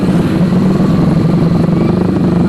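A Yamaha R15 V3 motorcycle fitted with an aftermarket exhaust rumbles loudly and steadily at a near idle, a dense low throbbing drone with no voices over it.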